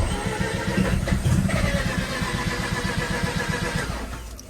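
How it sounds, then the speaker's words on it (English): Turbocharged Renesis rotary engine in a Mazda RX-8 cranking and firing up in a garage, a rapid rhythmic churning that catches and settles into a rough idle before fading slightly. "time to give her a quick fire up"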